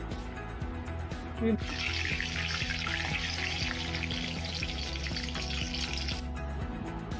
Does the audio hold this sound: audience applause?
no